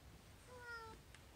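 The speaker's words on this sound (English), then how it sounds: "this loaf of a kitty is here to say goodnight" A cat lying in a loaf pose gives a single short meow that rises and falls, close by and soft, with no talking over it.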